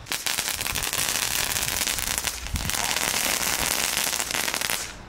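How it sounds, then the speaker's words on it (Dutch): Homemade category 1 firecrackers crackle continuously and loudly for several seconds, a rapid, rain-like stream of sharp pops close by, with faint talk in the background. "er komen echt goede knetters af"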